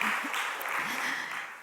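A church congregation at a Friday prayer service breaks into brief, dense applause, a steady wash of many hands clapping together at moderate volume.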